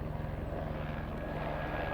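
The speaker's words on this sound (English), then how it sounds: "We've got a helicopter flying overhead here." A helicopter passing overhead gives a steady, droning engine hum with a low, rapid rotor thump beneath it, continuous and moderately loud throughout.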